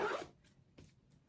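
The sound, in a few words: zipper on pleather costume boots being zipped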